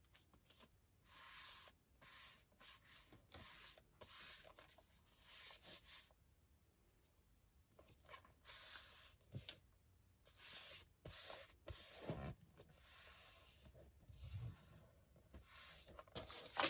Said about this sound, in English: burnishing that down as best I can